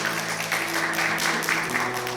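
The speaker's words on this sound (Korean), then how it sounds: "박수 한번 환영할까요?" Church congregation applauding to welcome children forward at an Easter Sunday service, a steady close wash of clapping with a faint tonal hum beneath it.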